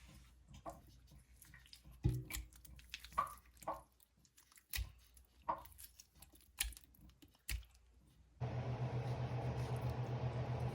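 Ripe tomatoes crushed and pulled apart by hand for home canning, a run of soft wet squishes and drips at close range, followed by a steady broad hiss that covers the last few seconds.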